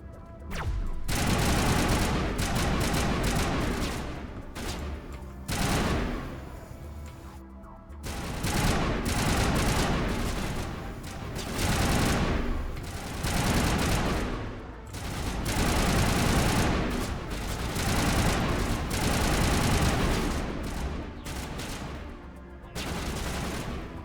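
Weapon fire in the game Massive Effect, long bursts of rapid automatic shots that stop briefly and resume again and again, loud and close with no talk.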